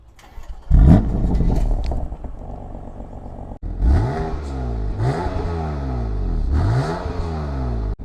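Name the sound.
BMW F80 M3 Competition engine start-up and revving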